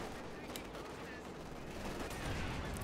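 Panzerwerfer rocket artillery barrage in a World War II strategy video game, a steady dense rumble of firing and explosions that swells louder toward the end, with a voice briefly heard.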